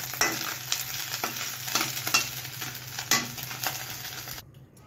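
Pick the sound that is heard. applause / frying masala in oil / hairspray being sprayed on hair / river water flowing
frying masala in oil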